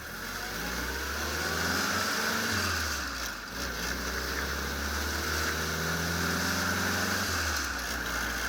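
A WW2 Willys jeep, a high-mileage example, pulls away with a steady mid-pitched engine drone that rises and falls through gear changes, close and continuous, with no talking.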